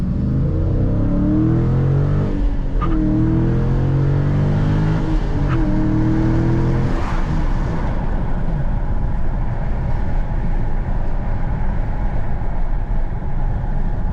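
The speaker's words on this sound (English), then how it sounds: "let's see if we can get some exhaust notes. You can tell this car still has a stock exhaust, so it's not going to be too crazy loud." A 2012 Ford Mustang Boss 302 with its stock exhaust revs up loudly close by, its engine note climbing and falling in repeated pulls before settling into a deep, rough rumble.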